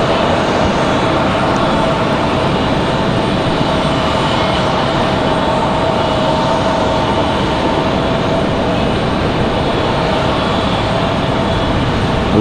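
Engines of a PSA CRJ regional jet starting up at Raleigh-Durham International Airport, a loud, sustained whine and roar with a steady tone running unbroken from start to finish.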